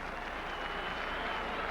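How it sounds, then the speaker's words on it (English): Baseball fans at a 1991 Blue Jays game applaud a strikeout, a faint, steady wash of distant crowd clapping under broadcast ambience. "Fans applauding for the strikeout"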